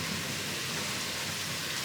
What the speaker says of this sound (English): Finally we have some rain.